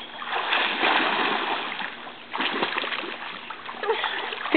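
A child swims in a backyard pool and kicks up continuous close splashing and sloshing water. It surges, drops briefly near the middle, then builds again, with no clear talk over it.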